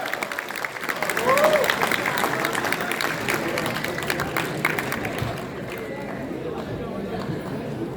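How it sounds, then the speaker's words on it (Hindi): An audience at a mushaira, a poetry gathering, applauds a poet in a broad, dense burst of clapping. It swells in the first seconds and then settles into a steady, lower wash that carries on to the end. "तालियां कम है हाशिम भाई के लिए,"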